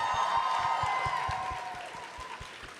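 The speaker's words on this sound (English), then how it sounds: "Can we have a round of applause, please?" An audience applauding at a conversation event, a fairly faint, evenly paced patter of claps fading as it goes on, with a faint tone sounding under it.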